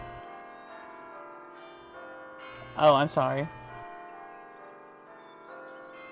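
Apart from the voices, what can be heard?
bells ringing in the video game The Lord of the Rings Online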